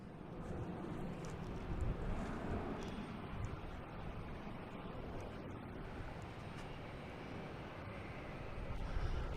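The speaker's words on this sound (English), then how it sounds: "Just had that JetBlue land from Detroit" A JetBlue airliner landing at Boston Logan airport, heard as a broad, steady distant jet roar that rumbles on with slight swells and no talk.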